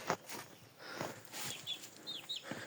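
Japanese quails in their coop on a poultry farm, a few soft clucks and short chirps with light rustling and scratching, faint and close.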